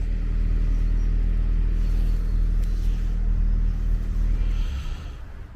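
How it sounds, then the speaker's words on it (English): A police vehicle pulls out of a police station in Barkingside, its steady engine rumble loud and close throughout, easing off slightly near the end. "So we've got a police vehicle coming out."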